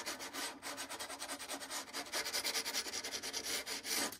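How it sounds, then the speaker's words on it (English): Sandpaper rubbed by hand along the edge of a wooden sofa table, a steady run of short rhythmic scratchy strokes, close and clear with no talk. "While the handles are drying, I'm just going to take my sandpaper."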